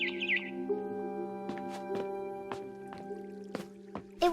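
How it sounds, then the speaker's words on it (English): Barn swallow chirping outside a window in the game What Remains of Edith Finch, a short twittering call at the start followed by scattered soft clicks and drip-like pops over a sustained musical drone. "Then I heard chirping outside my window."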